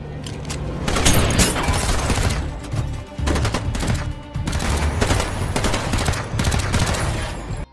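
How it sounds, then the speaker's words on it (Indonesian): Heavy gunfire in a film action scene, with dense bursts of automatic shots and booming impacts that continue loudly for the whole stretch and drop only briefly in the middle. "Negley dan Carla dihujani peluru setelah menemukan kontainer itu sedang dibajak"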